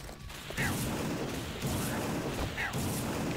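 Weapons firing in World of Padman, a Quake 3 mod, with repeated bursts of shots and impacts against a busy, dense game soundscape, fairly loud and continuous.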